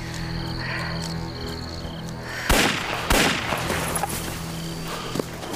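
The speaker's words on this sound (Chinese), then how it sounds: "开枪，把他们引过来。" Two sharp, loud gunshot bursts crack out in a wartime drama pursuit scene, standing out against a steady background of music and ambience.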